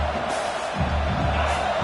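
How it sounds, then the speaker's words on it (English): Stadium crowd roaring at a college football game between Oregon and Texas A&M in a football video game, a dense continuous wash of cheering with slight swells, loud and unbroken for the whole moment. "this crowd is fired up. Listen to this noise here."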